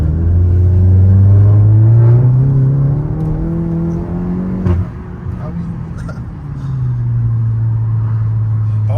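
VW Golf TCR stage 2 with an Armytrix exhaust accelerates, its engine rising in pitch as it pulls hard, then dipping briefly at a gear change and resuming a steady drone; people talk over it.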